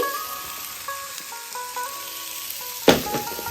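Chicken spring roll filling mix fries in a pan with a soft, steady sizzle and faint tonal hum, then a sudden clatter of a utensil near the end, with no talking.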